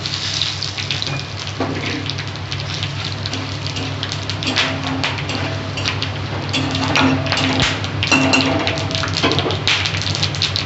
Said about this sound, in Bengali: এখানে তেজপাতা, জিরে আর এই যে গোটা গরম মশলা, দারচিনি, এলাচ, লবঙ্গ আছে, আমি সব ফোড়নে দিয়ে দিলাম।